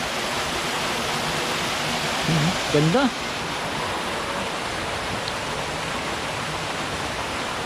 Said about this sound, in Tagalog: Tapos malakas din yung agos din.